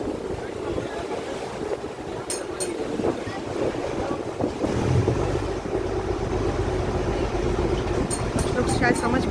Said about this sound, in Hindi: बहुत तेज़ हवा चल रही है, थोड़ा थोड़ा डर मुझे भी लग रहा है